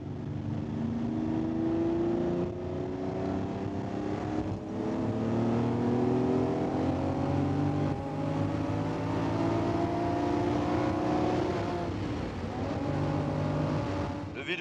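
A 1972 Ferrari 365 GTB4 Daytona with a group 4 V12 engine climbs through the revs from inside the car, a loud, continuous multi-toned drone rising in pitch, easing off near the end, then building again.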